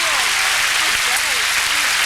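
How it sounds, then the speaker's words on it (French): A studio audience at a French television show claps in dense, steady applause, loud and continuous from start to finish. "Continuez à l'applaudir."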